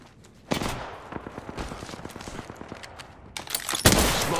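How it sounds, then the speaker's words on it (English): Rapid gunshots from a teammate in the battle-royale shooter Apex Legends, sounding as quick close bursts with a dense cluster near the end, no voices. "Ryan, shoot me a couple times."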